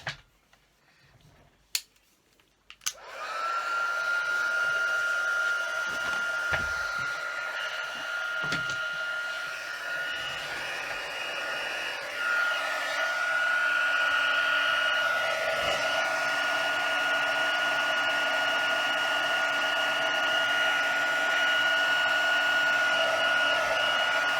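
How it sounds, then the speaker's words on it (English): A craft heat gun blows with a steady, loud whooshing hum near the microphone while making a Christmas card with frosted embossing, starting after a few light taps and handling clicks and running continuously for about twenty seconds. "Will I just get my heat gun?"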